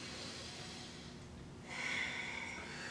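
A deep breath taken during a chair and mat yoga session, a soft breathy rush that swells partway through over a quiet room hiss.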